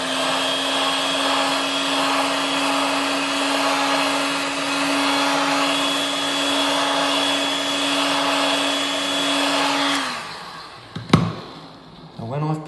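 A heat gun blows hot air over paint on a laminate worktop repair, a steady loud whirring hum with a constant tone for about ten seconds before it switches off and winds down, followed by a few knocks and handling sounds.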